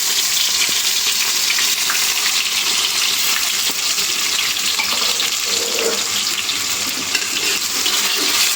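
Sliced onions sizzle in a little oil in a large, hot kadai, a loud, steady frying hiss that carries evenly throughout with no talk over it.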